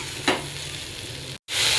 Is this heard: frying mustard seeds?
yes